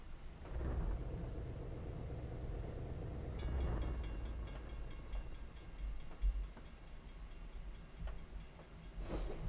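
Evans hopper cars roll along in Trainz 2019 with a steady low rumble and rail clatter, a brighter metallic wheel squeal and clicking joining midway, with a few louder knocks near the end.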